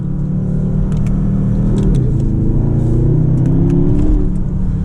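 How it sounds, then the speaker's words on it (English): Porsche Panamera Turbo accelerating hard on overboost, its engine note rising and climbing through gears in a loud, close rumble with rising tonal sweeps and a few brief clicks, no talking. "if I want acceleration on the highway, I'll hit this button that gives me 10 seconds of overboost"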